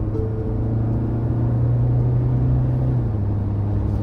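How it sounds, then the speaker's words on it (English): Close, steady rumble of a Tata Safari diesel automatic SUV engine being revved, a deep low drone that rises slightly then settles, with no voices. "whenever we rev the car, that is how it sounds"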